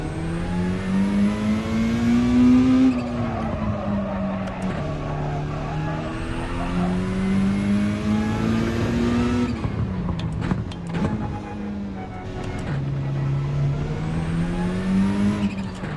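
RC10 race car in a racing video game, its engine droning and revving up and down through gear changes, steady and loud throughout with rising and falling pitch.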